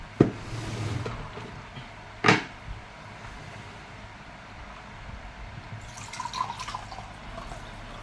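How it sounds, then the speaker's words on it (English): Water is poured into a cup with a couple of sharp taps and a gentle trickling splash near the end, quiet and close in a calm indoor room. "Why I pour the water into my cup?"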